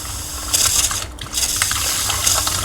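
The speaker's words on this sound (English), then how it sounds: "a 12-volt pump that pulls the water out" Water runs steadily from a camper van faucet fed by a 12-volt pump, a close, continuous splashing stream with a brief dip midway.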